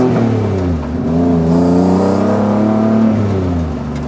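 A classic MG with a swapped engine and side exhaust revs up loudly and close, its deep exhaust note rising and holding before easing off.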